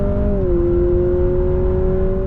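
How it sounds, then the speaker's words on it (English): A Honda CR-V hybrid in sport mode plays simulated Civic Type R engine noise, a steady synthetic hum whose pitch drops slightly then holds level, close and continuous with no talking. "on top of that adds in Civic Type R engine noises"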